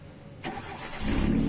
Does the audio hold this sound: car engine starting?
yes